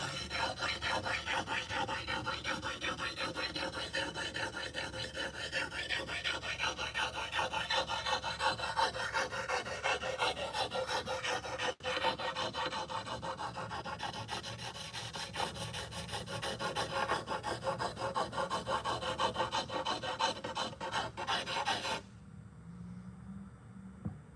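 A katana blade is sharpened by hand, giving a continuous close-up rasping and rubbing of stone on steel in steady back-and-forth strokes that stop abruptly near the end, with no talking.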